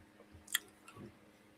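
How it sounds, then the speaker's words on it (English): Soft, wet chewing of food during a quiet moment, a few faint squishy mouth sounds with one sharper smack, close to the microphone. "Pardon my chewing."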